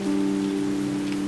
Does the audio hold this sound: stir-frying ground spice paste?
no